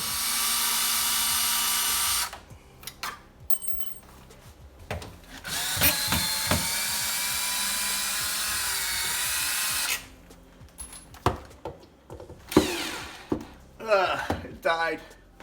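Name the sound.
power drill unscrewing microwave bracket from wall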